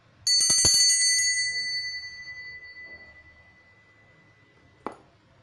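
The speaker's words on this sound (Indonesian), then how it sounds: "ditandai dengan lonceng tanda berbunyi" A bell rung as a signal during a card game sounds one loud, clear ding that rings on and slowly fades over several seconds, followed near the end by a short sharp tap.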